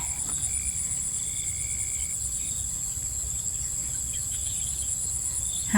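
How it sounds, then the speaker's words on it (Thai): Insects and frogs call steadily at evening beside rice paddies, a continuous dense chorus of high, shrill trilling over a low rumbling layer, with no talking. "พอตกเย็นก็จะได้ยินเสียง กบเขียดร้องเสียงธรรมชาติค่ะ"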